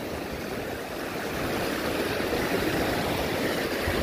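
Heavy floodwater rushes in a continuous loud, broadband roar along a hill route between Silchar and Haflong, steady throughout with no voices.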